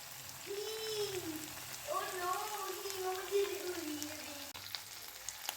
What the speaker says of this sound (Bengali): সমস্ত মশলাটা ভালো করে আরও কিছুক্ষণ ভেজে নেব